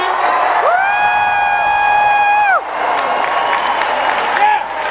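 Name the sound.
convention crowd cheering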